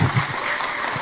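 A crowd at an Indonesian religious gathering applauds, a steady wash of clapping carrying through the whole short moment at moderate loudness.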